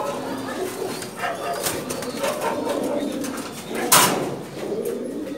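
German Shield pigeon cooing steadily at close range among other birds at a busy Dhaka pigeon market, with a brief burst of wing flapping partway through and faint background voices.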